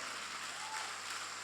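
A church congregation applauds in a continuous, even wash of clapping, dense and moderately distant, without a distinct voice over it.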